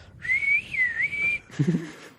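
A single clear whistled note in a video game, held for about a second with a gentle wavering pitch, then a short low sound after it.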